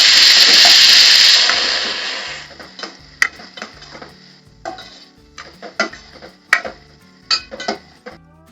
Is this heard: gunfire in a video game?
no